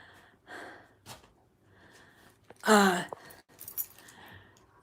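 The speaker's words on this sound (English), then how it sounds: "sorry, I'm breathing heavy." Heavy breathing comes in a few irregular gasps and puffs, close and fairly quiet, with one sharper, louder breath near the middle.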